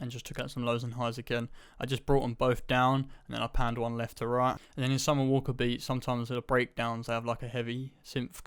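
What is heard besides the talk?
None of the usual background noises is heard.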